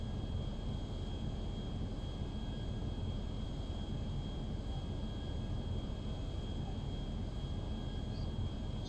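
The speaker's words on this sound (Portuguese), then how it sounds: "Preparando a abordagem de aterrissagem." A steady, even engine drone of a jet airplane on landing approach near hills in the GTA V video game, with a thin constant whine riding above the low rumble, moderately faint and unchanging throughout with no speech.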